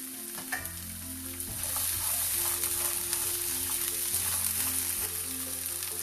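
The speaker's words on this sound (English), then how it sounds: "heat it a little bit, add little oil to this, not much. Just saute the veggies" Vegetables sauté in a little oil in a pan on the stove for hara-bhara kebabs, giving a steady close sizzle that swells after a stir, with faint scraping and no talk.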